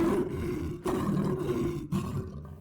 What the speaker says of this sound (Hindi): आवाज़ से तो लगता है कि कोई शेर मेरी ही ओर बढ़ता चला आ रहा है।